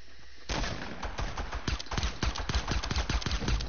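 Gunfire in the video game Fortnite, a rapid run of sharp shots in quick succession after a short quiet start, loud and close with steady rhythm.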